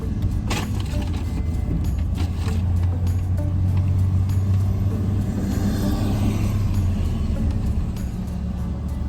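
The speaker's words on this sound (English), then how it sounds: "I'm just driving to the parking lot." Car driving to a parking lot, heard from inside the cabin as a steady low road and engine rumble with occasional light clicks and rattles, continuous throughout with no talking.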